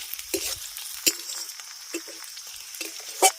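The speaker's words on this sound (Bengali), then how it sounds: "পেঁয়াজটাকে আগে হালকা করে ভেজে নিচ্ছি" Onions frying lightly in oil in a pan for a banana-flower dish, a soft continuous sizzle broken by several sharp spatula scrapes and clinks, close up, no talking.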